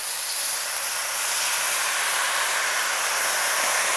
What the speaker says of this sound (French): On va déglacer au vin blanc.